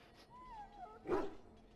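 A dog in the fantasy video game Dragon Age: Origins lets out a brief, close whimper that rises into a short bark, alone over faint background.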